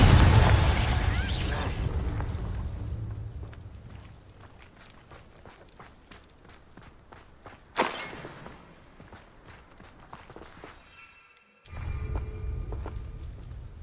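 Confringo spell blasts in the Hogwarts Legacy video game: a loud opening boom fading into rumble, then a sharp burst near the middle and another abrupt blast near the end, with footsteps and game effects between.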